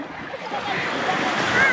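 Ocean waves on a beach during a birthday outing, a steady broad wash of surf with wind, close and fairly loud, with faint voices in the background.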